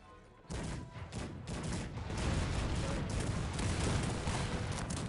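Cannon and musket fire in the real-time strategy game Cossacks 3, a loud, dense and continuous barrage of overlapping shots and booms from armies in battle, swelling after a short quiet start and holding steady throughout.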